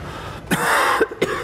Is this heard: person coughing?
yes